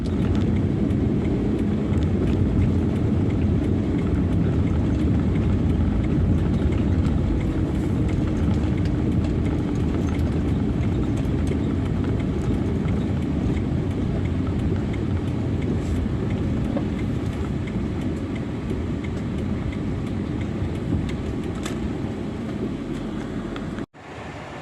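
A steady, loud engine drone from a car accelerating in the GoCar driving game, holding a constant roar for the whole stretch before cutting off abruptly at the end.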